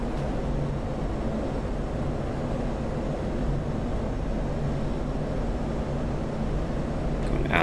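An F-16C jet in the DCS flight simulator roars steadily on afterburner during its climb after takeoff, a constant loud broadband rush with no breaks.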